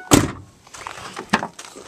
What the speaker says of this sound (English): I'll shut this door. Door shuts good.